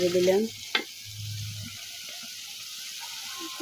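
Spices and snakehead fish fry in oil in a pan in a Bangladeshi village kitchen, giving a low, steady sizzle after a brief clatter and a moment of voice at the start.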